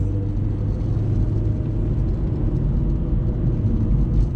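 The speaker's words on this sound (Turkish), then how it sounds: "Şöyle bir yarım gaza doğru getiriyorum arabayı" A 2017 Opel Corsa 1.4 automatic pulls up a steep incline at half throttle, its engine a steady low, close rumble droning evenly throughout.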